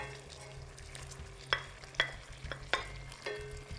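Plant-based chorizo sizzles softly in olive oil in a pan, with several sharp utensil scrapes and clacks from stirring breaking over the low frying hiss.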